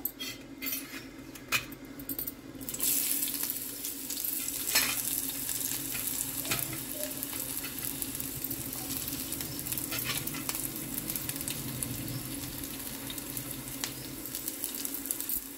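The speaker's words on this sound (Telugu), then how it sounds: "ఇలా ఫ్రై చేద్దాం. ఉల్లిగడ్డని వేద్దాం" Chopped onion and green chili fry in a pan with a steady loud sizzle, while a metal spoon scrapes and stirs against the pan throughout, close up and without talking.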